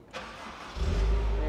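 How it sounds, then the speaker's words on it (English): A Honda Accord Euro R, unused for three years, cranks briefly and fires up, then settles into a loud, steady idle close by. "There's no doubt in my mind this car is going to go on the tip of the key."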